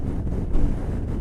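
Wind gusts across the microphone beside a lake on a motorcycle trip along Argentina's Seven Lakes route near Bariloche, a steady low rumble with brief louder buffets, nearby and continuous with no talking.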